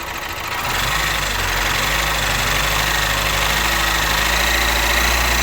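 An Opel Astra J 1.6 CDTI (B16DTH) diesel engine idles steadily up close, its low rumble rising slightly as it is gently revved, with a constant mechanical clatter throughout.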